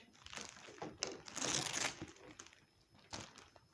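Plastic bags crinkle and rustle in irregular bursts, close and fairly quiet, with short pauses between handlings.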